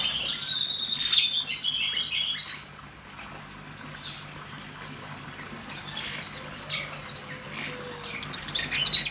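Red Belly parrots in an aviary chirp and tweet continuously with high trilling calls, some louder bursts near and others softer, over a steady background hum.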